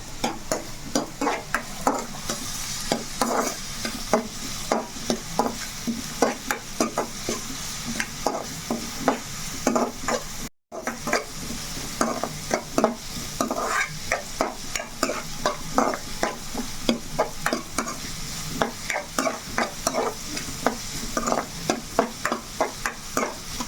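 Salted dried fish fries and sizzles steadily in a pan, a dense crackling hiss with continual stirring scrapes and a brief dropout midway.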